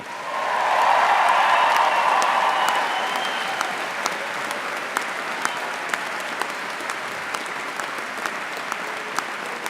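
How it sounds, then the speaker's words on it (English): Graduates at a Birmingham City University graduation ceremony break into loud applause and cheering, a dense burst that peaks early and then thins into scattered claps. "You can give yourselves a massive cheer now."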